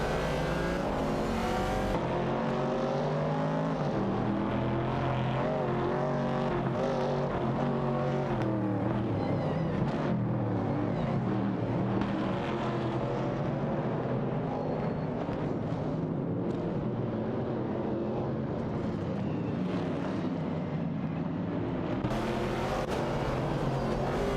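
Race car engines roar continuously in an AI-driven racing video game, including a Plymouth Barracuda and a Ford Falcon, a dense layered drone of revving and shifting pitch that fills the whole stretch without any talk.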